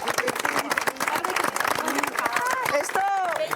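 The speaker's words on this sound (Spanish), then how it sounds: "¡Aplauso gordo!" Applause and cheering from a crowd gathered at a meat-products factory in a village in Asturias, dense clapping under excited voices and shouts.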